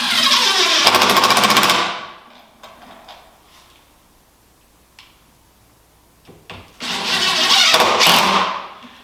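Power drill drives screws into a deck-mounted stair starter post, two loud whirring bursts with a quiet pause of faint clicks and handling sounds between them.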